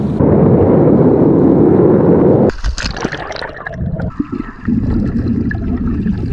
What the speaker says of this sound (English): It's time to get in the water.